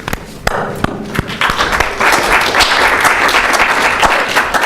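Applause from an audience at a student government meeting, honouring its caucuses. Clapping swells after a few scattered taps into a steady, dense wash that lasts several seconds.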